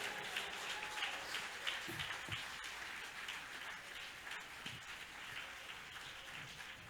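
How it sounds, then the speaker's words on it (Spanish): Church congregation applauding during a sermon, a faint, distant, steady wash of clapping lasting several seconds with no speech over it. "Si alguien puede aplaudir a Dios, apláudale fuerte."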